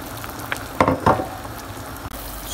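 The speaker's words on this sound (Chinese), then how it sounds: "水开了以后，就把我这个老汤倒进去" Old broth is poured into a pot of boiling water for braising pork tongue, with a couple of splashing, sizzling bursts over a steady bubbling simmer, close and fairly loud.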